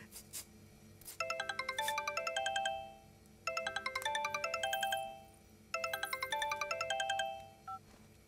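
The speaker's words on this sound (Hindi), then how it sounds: "किसी पागल का फोन आ रहा है।" A mobile phone ringtone for an incoming call plays a bright, repeating melodic pattern in three loud bursts separated by brief pauses, close and clear, with no voices.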